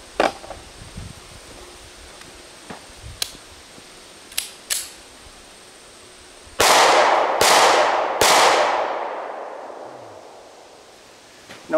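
A Springfield Hellcat pistol fires three loud, sharp shots in quick succession outdoors, each followed by a decaying echo. Scattered quieter clicks and handling noises come first.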